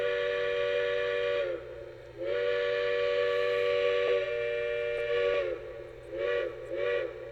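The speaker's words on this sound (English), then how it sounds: "Let's go ahead and give the whistle a listen." A Lionel Pennsylvania 2-10-4 Texas 5011 Class model steam locomotive sounds a chime whistle: one long steady blast, a brief gap, then a further long blast and several short toots, with a low electronic hum running underneath.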